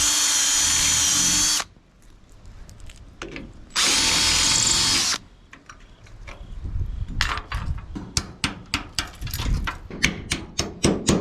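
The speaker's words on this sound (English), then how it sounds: "I'm gonna get rid of these guards since they're all corroded anyway and drill out the rivets." A power drill bores out rivets holding corroded guards on a truck bed, two loud bursts of whining spin separated by pauses, then a run of short sharp clicks and ratcheting taps.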